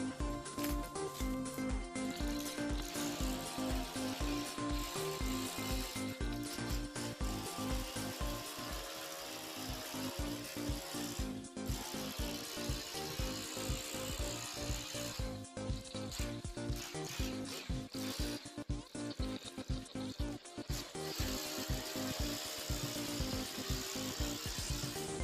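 Laurel branches are trimmed back in a garden with a powered cutting tool, giving a continuous buzzing whine broken by rapid rhythmic cutting bursts and short pauses, fairly close with no speech.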